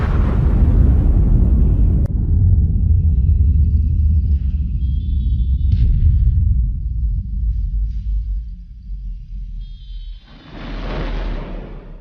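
An underwater bomb test blast sets off a huge deep roar that rolls on for several seconds, then fades into a low rumble before a second swell of noise near the end.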